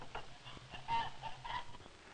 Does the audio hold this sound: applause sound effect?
no